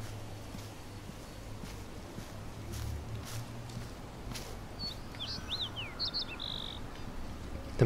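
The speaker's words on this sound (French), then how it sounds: "Mais j'entends l'oiseau, mais je vois pas." A few brief bird chirps sound faintly in the video game Life is Strange, set against a steady outdoor ambient hiss and low hum.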